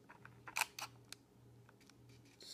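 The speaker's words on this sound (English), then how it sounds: "I'm going to press the shutter all the way down." A Fuji X-T1 mirrorless camera with its shutter pressed fully down, giving a few quiet, close mechanical clicks and a brief burst of snaps near the start, then near silence over a faint hum.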